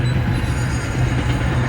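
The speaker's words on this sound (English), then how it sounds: "2 trains back to back." Two trains passing back to back, a loud continuous low rumble and rolling roar of rail cars nearby, steady throughout with no voices.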